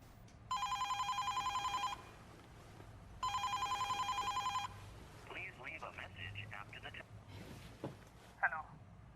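A telephone rings twice in long electronic trill bursts, loud and clear indoors, followed by someone speaking over faint background.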